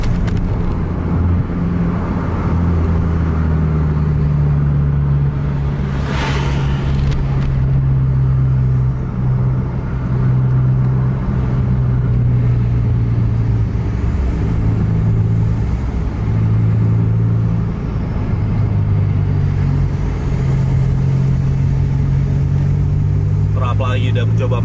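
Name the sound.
buses racing in a traffic jam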